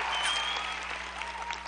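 Brief burst of audience applause at a large Amway convention hall, many hands clapping in a dense, fairly quiet, continuous patter.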